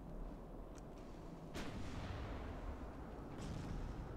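Naval gunfire rumbles in the warship game Ultimate Admiral: Dreadnoughts during a battle with a torpedo cruiser. Low booms roll continuously at a distance, with one sharper crack in the middle, all fairly quiet.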